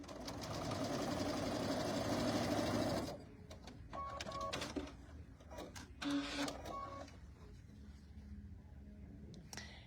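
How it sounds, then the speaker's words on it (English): A sewing machine stitches quilted fabric pieces for a tabletop banner: one continuous whirring run, then several shorter stop-start bursts of stitching with brief pauses, close and moderately loud. "you have these H pieces that we're just going to sew to the sides"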